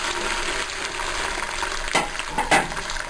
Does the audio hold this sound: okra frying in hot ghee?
yes